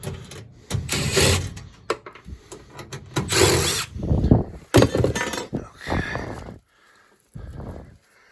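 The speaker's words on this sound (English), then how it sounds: "Let's take these screws out of here. Little baby screws." Power driver backing small screws out of a fire suppression system panel in a commercial building, with several loud whirring bursts and rattling bits of handling close by, and no clear talking.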